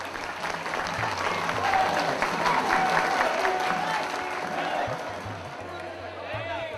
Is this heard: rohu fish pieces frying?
no